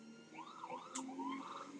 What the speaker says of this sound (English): how's the siren still working like that?